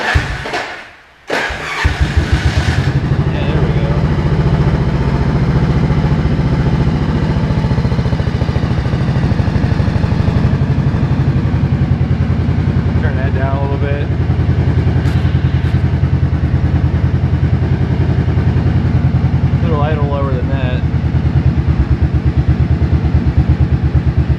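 A 1983 Yamaha Virago 750 Midnight Special motorcycle engine cranks and catches, then settles into a loud, steady close-up idle with a few throttle blips rising over the rumble.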